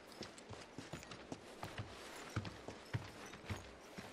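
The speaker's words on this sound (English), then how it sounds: "I hear footsteps" Footsteps in the video game Final Fantasy VII Rebirth, faint irregular thuds and clacks spaced through the stretch, sounding almost like hooves, over a quiet hiss with no talk.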